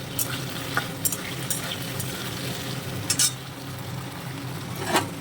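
Potato and eggplant fry in a pan with a steady close sizzle, broken by occasional scrapes and clinks of a utensil stirring.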